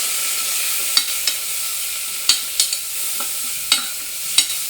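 Ginger garlic paste and turmeric fry in hot oil with a constant bright sizzle, broken by several sharp scrapes and clinks of a spoon stirring against the pan.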